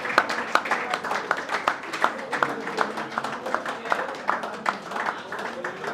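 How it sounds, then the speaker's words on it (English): A modest audience at a QHSE debate event applauds, a steady run of moderately loud, fairly evenly spaced claps with a faint room murmur underneath. "A round of applause for them."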